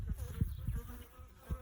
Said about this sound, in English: Look at those bees.